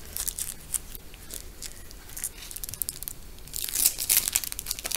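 Crinkling plastic and tearing wrapper as a pack of Cards Against Humanity cards is opened up close, a steady rustle that grows into louder crackling bursts toward the end.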